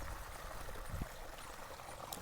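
Water flows along a farm channel with a soft, steady trickling rush and an occasional gurgle, faint and continuous, with no voices over it.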